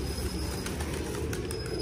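Pigeons being fed in Attock, Pakistan, cooing softly over a steady low rumble of background noise, with faint scattered fluttering and shuffling.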